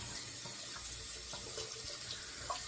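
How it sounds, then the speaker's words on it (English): Hot tap water runs steadily over a tumbled stainless steel safety razor being rinsed, a constant close splashing rush with small clinks and splatters, with no voices. "rinsing it out was no problem. Always with me under hot water"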